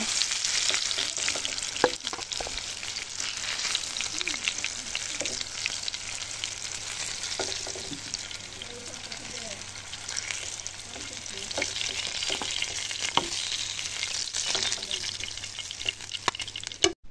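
Fish pieces frying in hot oil give a steady, close sizzle with soft crackles and occasional stirring taps throughout, no voices.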